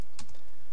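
A command is typed on a computer keyboard, a brief, close cluster of two or three crisp key clicks in quick succession.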